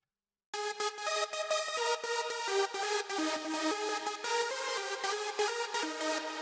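A new synth lead for a UK hardcore track plays a fast, rhythmic run of bright, repeated notes with sharp regular attacks, steady and upfront after a brief silent start.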